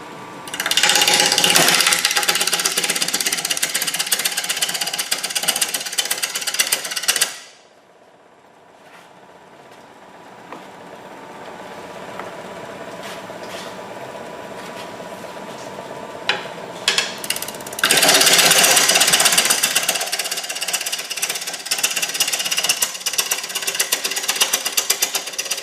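Natural edge bowl spinning on a wood lathe at about 1000 RPM, a loud continuous rough cutting and whirring that drops away to a quieter steady hum in the middle before the loud cutting resumes.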